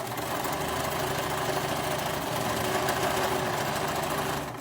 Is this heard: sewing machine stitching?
yes